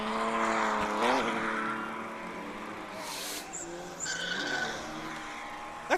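A Ford Focus RS drift car slides around the circuit at a winter drift event at PBIR, its engine note rising and falling while the tires squeal, loud and sustained over about six seconds.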